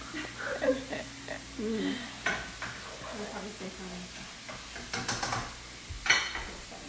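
Food sautéing in a pan for a keto meatloaf, soft sizzling with utensil stirring and scraping clinks, while people talk over it.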